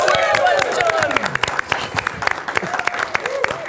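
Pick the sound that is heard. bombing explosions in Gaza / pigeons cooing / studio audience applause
studio audience applause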